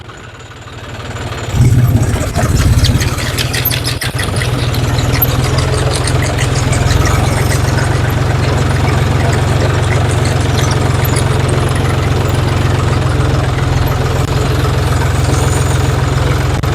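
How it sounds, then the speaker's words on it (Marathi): A tractor engine runs steadily while forming beds on a farm field and dibbling seeds with an attached planting device, a loud, even, low rumble that starts after a brief quieter moment and continues without talking. "आपण आता बघू ट्रॅक्टर चालू केल्यानंतर बेड कसा पडतो आणि कशा पद्धतीनं टोकन होत आहे"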